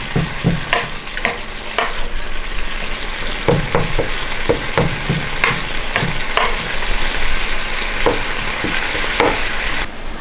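Ground venison sizzles steadily in a skillet, a constant frying hiss beneath scattered scraping and tapping of a utensil stirring the meat, close up with no talking.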